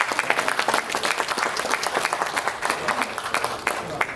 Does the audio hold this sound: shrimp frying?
no